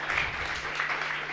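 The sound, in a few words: applause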